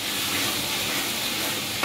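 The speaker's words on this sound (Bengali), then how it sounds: "রসুন বাটাটাকে একটু তেলে ভেজে তারপরে আদা বাটা দিয়ে দেওয়া হবে" Garlic paste fries in hot oil for a beef bhuna khichuri, giving a steady, close, dense sizzle throughout with a brief stir bump right at the end.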